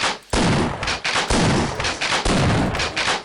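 Shotgun blasts in a video game, loud and close, fired in a steady rhythm of about four heavy booming shots, each with a short decay, and no talking.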